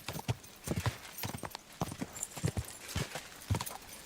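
Horse hooves galloping in Kingdom Come Deliverance II, a steady run of close, rhythmic clip-clop beats lasting several seconds with no speech over them.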